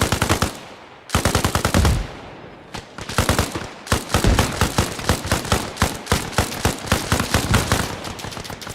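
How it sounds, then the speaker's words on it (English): Machine guns fire in the video game Arma Reforger in loud, close, rapid bursts, with short gaps between volleys before a longer, sustained rattle of fire. "short controlled bursts, brother. Short controlled bursts. Conserve that ammo a little bit."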